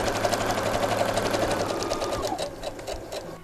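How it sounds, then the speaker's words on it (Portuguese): Sewing machine running steadily as it stitches a straight seam closing an opening in fabric for an origami-fold bag, a close, continuous mechanical whir that slows and thins out near the end. "E vamos à máquina passar uma costura reta fechando essa abertura"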